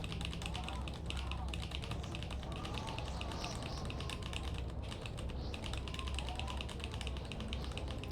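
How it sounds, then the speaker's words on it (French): Rapid, heavy typing hammers a computer keyboard in dense clattering bursts during a French-language playthrough of Fahrenheit, loud and close throughout with a voice faintly underneath. "Désolé pour vos oreilles. Je dois massacrer le clavier."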